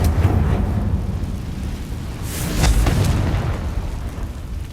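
A Confringo fire-blast spell cast in Hogwarts Legacy gives a boomy burst with a short crackling flare midway, set over a steady low rumble of game ambience with no talk.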